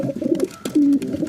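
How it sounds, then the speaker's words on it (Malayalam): A female pigeon coos in short, low, wavering bursts, close and moderately loud, with a brief rustle between calls. "ഈ പ്രാവ് ഡബിൾ കണ്ണിലാണ് പെൺപ്രാവ്"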